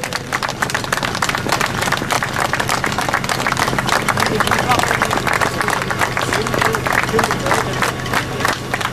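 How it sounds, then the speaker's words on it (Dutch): Carnival crowd at an alternative doll-burning event in Wetteren applauding the committee, with dense, steady clapping and cheering that carries on for the whole stretch over a background of crowd babble. "Mag ik een warm applaus voor ons comité"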